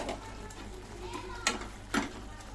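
Fenugreek leaves hit hot oil and masala in a pan, setting off a steady sizzle and frying hiss with a couple of sharp clatters from the spoon or pan, close by, with no voices.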